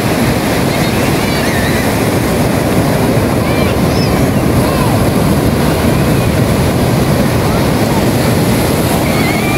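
Strong ocean waves surge and crash continuously at a beach, a loud, dense roar of surf mixed with wind buffeting the microphone throughout, with no break in the wash.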